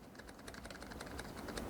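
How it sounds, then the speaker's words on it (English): Quick, soft keystrokes patter continuously on a membrane computer keyboard, an ASUS TUF Gaming K1, muted and fairly close, with no talking. "is the sound of the keys."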